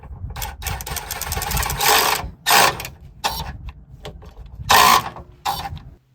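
Nut being threaded and snugged onto a bolt through a broken frame rivet on a Ford Econoline van, giving several loud bursts of metallic ratcheting and clicking separated by short pauses, close up with no talk.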